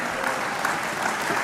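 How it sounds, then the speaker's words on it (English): Audience keeps clapping steadily for a teacher-of-the-year honoree, a brief, dense burst of close applause with no break. "You really don't have to keep clapping."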